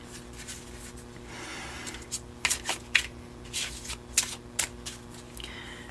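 Tarot cards are shuffled close up in a quiet room, a soft riffling rush followed by a run of crisp flicks and slaps as cards are cut and drawn, with no talk over them.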